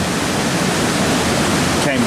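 Loud, constant roar of a river swollen by heavy overnight rain, close and unbroken, with a brief voice cutting in near the end.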